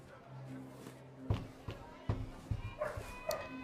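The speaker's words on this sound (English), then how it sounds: "The dogs are back." Dogs barking and yipping in the background during a tabletop Pathfinder game session, several short sharp barks spread across a few seconds beneath the room's quiet background.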